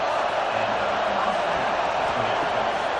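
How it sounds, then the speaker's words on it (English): Continuous stadium crowd roar in a football video game, a dense steady wash of cheering that holds level throughout. "Listen to this crowd."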